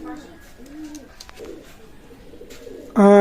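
Teddy pigeons kept for sale give soft, low, rolling coos from close by, in a few short phrases. A sudden loud, tonal burst cuts in at the very end.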